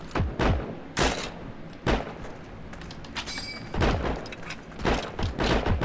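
Gunfire in the World War II shooter game Heroes & Generals, several loud sharp shots and thumps spaced irregularly over a steady battlefield background, with no talking.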